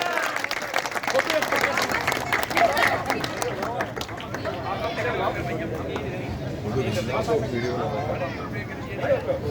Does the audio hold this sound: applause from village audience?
yes